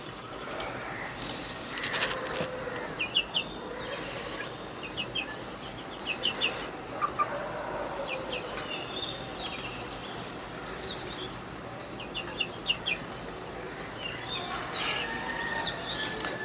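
Pet birds call for food in the morning, sending out scattered bursts of chirps and squawks, some close and sharp, over a low background hum.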